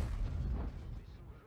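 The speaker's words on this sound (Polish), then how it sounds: "Jeszcze jeden strzał." A tank cannon fires in a tank video game, a single heavy boom at the start that rumbles and fades over about a second.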